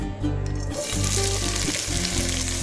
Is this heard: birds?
no